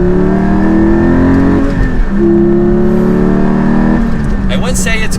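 Porsche Cayman GT4 exhaust accelerating in second gear, loud rising engine tones with a gear change and another climbing rev, heard from inside the car with voices talking.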